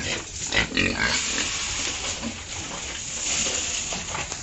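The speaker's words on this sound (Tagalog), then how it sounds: "Mga baboy." Pigs in a piggery eating feed, a close, continuous mix of wet munching and low grunts with a few louder snorts.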